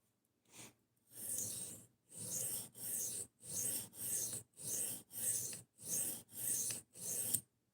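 Knife blade sharpened on an inexpensive diamond plate, about ten even rasping strokes in a steady rhythm with brief pauses between them, close and clear, with no talking.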